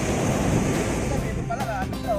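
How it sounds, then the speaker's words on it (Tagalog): Loud wind buffets the microphone over rushing surf on a beach in Agno, Pangasinan, with voices talking briefly toward the end. "Lakas ng hangin, lakas ng alon."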